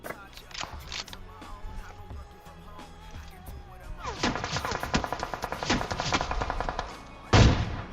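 Gunfire from a sniping match in a video game: scattered sharp shots early on, then a dense burst of rapid firing and one loud final crack. A voice talks over the first part.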